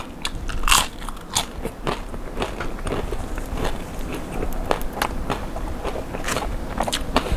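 Crisp skin of marinated roast suckling pig crackling under repeated bites, with sharp crunches and chewing scattered throughout, close and fairly loud.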